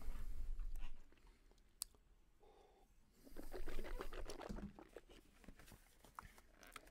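Someone chewing a Special K caramel latte pastry crisp, with crunchy bites and mastication that swell in the middle and then fade, close and fairly quiet.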